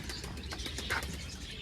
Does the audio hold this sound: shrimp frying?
no